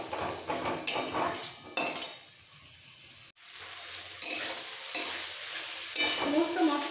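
Spices for a katla fish and cauliflower curry being sautéed and stirred in a pan with a splash of water, giving a steady sizzle broken by scraping stirs, a brief pause, then continued frying.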